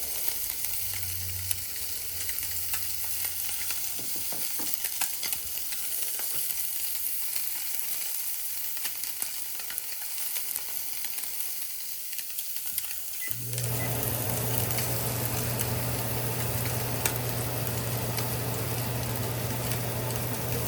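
Bass, flounder and redfish fry in a pan with a steady, dense sizzle and hiss throughout, occasional stirring clatter, and the frying growing louder and fuller near the end.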